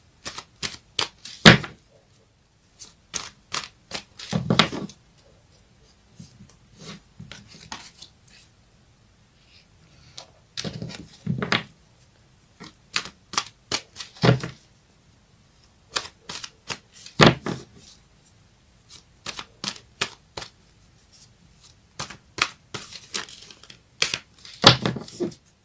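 A deck of tarot cards is shuffled in repeated sharp clattering bursts with pauses between, close and clear, a few cards slapping loose partway through.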